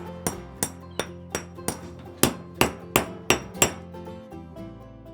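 Metal hammer blows ring out in handmade art making, about a dozen sharp, resonant strikes in a steady rhythm, each decaying with a clinking ring, close and loud with no voices.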